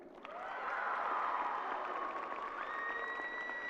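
A high school graduation audience at Parkland High School applauds its top seniors. Clapping swells quickly into a full, steady round from a large crowd, with a faint tone running under it.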